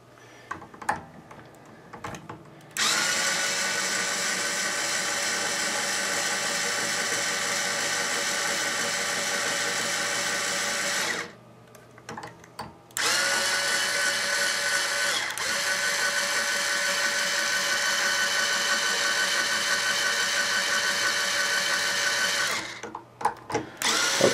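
A power drill fitted with a string winder unwinding guitar strings, a close, whirring buzz in two long bursts separated by a short pause, with faint handling clicks before and after.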